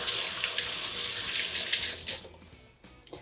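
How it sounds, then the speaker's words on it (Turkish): Tap water runs steadily into a kitchen sink while a hand is washed, a close, bright hiss for about two seconds before the flow stops, leaving a few faint drips and splashes. "Şimdi bir elimi yıkıyorum hemen Melis'ciğim."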